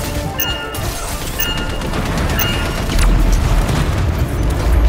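An explosion in the video game Anthem makes a loud, sustained broadband rumble with crashing debris, swelling heavier and deeper toward the end, with no talk over it.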